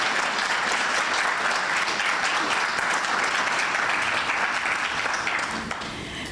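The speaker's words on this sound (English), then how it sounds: "I think we can do better on the applause." An audience at an investiture ceremony for a chartered institute's global president claps loudly and continuously. The thick, even applause fades in the final second.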